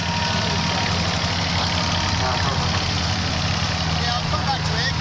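A diesel engine idles at a steam fair, a steady, close mechanical rumble with a faint knock that runs unbroken from start to finish.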